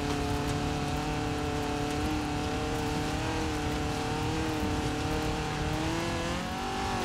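A stock 1980 Fiat 124 Sport Spider engine in the Forza Horizon 4 racing game, heard from the interior, drones steadily at sustained revs with a gently wavering pitch, loud and continuous throughout.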